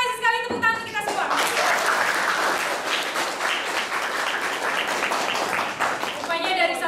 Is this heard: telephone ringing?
no